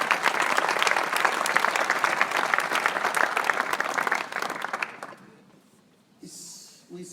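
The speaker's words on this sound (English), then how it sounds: "Give him a big applause" A conference audience at a World Scout event gives sustained, dense applause that stays loud for about five seconds, then fades away into near silence with a few stray claps.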